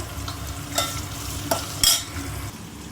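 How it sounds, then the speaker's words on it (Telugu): Curry leaves and coriander frying in a pan for poha, a steady low sizzle broken by a few sharp crackles and pops, with no talking. "కరివేపాకు, కొత్తిమీర బాగా ఫ్రై కావాలి"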